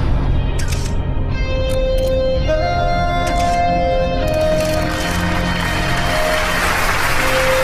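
A crowd applauds a speaker thanking investors in Singapore, sustained loud clapping filling the room with a steady wash, under a held musical tone with no talk on top.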